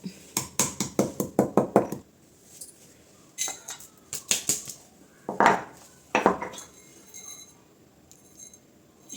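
Heated ingredients are pounded coarsely in a mortar, giving sharp, clinking knocks. A quick run of about a dozen strikes is followed by a pause, then several scattered pairs of knocks. There is no talk.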